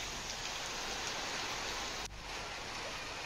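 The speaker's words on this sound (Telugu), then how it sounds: "మేఘాలు కమ్ముకుని వర్షం పడింది." Moderate rain under cloudy skies in Telangana pours down as a steady, dense hiss, continuous and fairly loud with no break.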